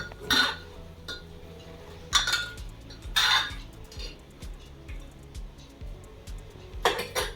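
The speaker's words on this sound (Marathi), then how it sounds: "आता मी एकदा हे हलवून घेतो" Mutton curry being stirred in a cooking pot, with metal utensil clinks and scrapes against the pot coming in several louder bursts separated by quieter stretches, close by.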